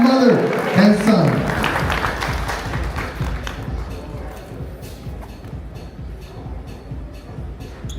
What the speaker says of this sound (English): please a big round of applause for that very special moment between mother and son